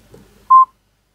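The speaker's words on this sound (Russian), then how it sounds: "Потому что вы сейчас кнопки нажимаете," A phone keypad gives a single short, clear button tone as a key is pressed, loud and close, preceded by faint low rustling with no talk.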